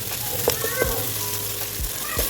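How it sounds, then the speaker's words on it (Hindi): Sliced zucchini fries in oil in a pan, giving a continuous close sizzle with a few louder spits and pops, and the cook's utensil scrapes and taps occasionally. "हम इसे अच्छी तरह से फ्राई करेंगे"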